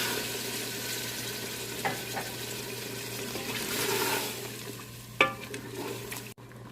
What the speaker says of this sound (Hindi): 1 गिलास पानी ऐड करेंगे।